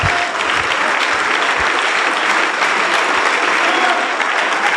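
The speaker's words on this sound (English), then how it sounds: "Please give our brother a warm round of applause, the Honorable Minister Loui Farrakhan from the Nation of Islam" A loud, sustained round of applause from an audience welcoming Minister Louis Farrakhan of the Nation of Islam, dense clapping close by that holds at an even level from start to finish.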